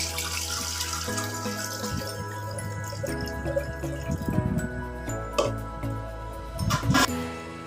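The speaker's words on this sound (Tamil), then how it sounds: "இந்த அரிசி இப்போ நான் வாஷ் பண்ணுறேன் பாருங்க" Rice being washed in a bowl of water, with soft swishing, sloshing and dripping sounds close by, and a few louder splashes and pours toward the end.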